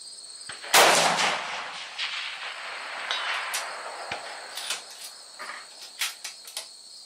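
A 6.5 Creedmoor rifle loaded with Reloder 17 powder fires at a 600-yard range: one loud, sharp shot rings out near the start, followed by several fainter cracks and knocks over a steady high insect-like drone.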